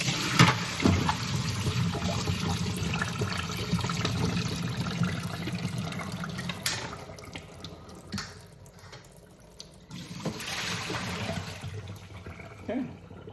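Water draining out of a Pinter home brewing keg, a steady close splashing and trickling flow that runs on for several seconds, thins out partway through and then picks up again.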